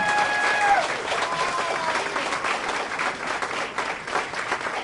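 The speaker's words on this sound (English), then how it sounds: "So let's have a big round of applause for Andy Goodell." Crowd at an outdoor kickoff event clapping for a local politician, a sustained, fairly loud wash of applause from many people with brief whistles near the start.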